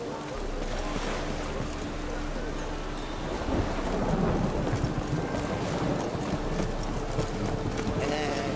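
Heavy rain pours steadily with rumbling thunder beneath in the video game The Witcher 3, a dense continuous roar that swells slightly midway, loud and enveloping.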